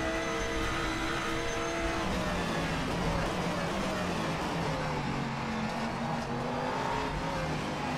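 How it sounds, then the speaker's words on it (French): A Lamborghini Huracán Super Trofeo Evo race car in the rFactor 2 racing game holds a steady, high-pitched engine drone that rises and shifts in pitch, loud and continuous with no talk. "Ce son un peu aigu de la Lambo."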